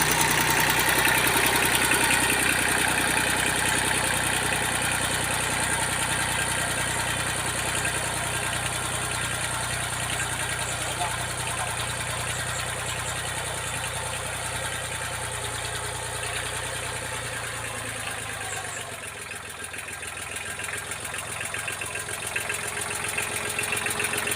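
A Kubota L2000 small tractor engine runs hard during a PTO test, a steady loud mechanical drone that holds for a long stretch before dropping in pitch near the end as the revs ease off.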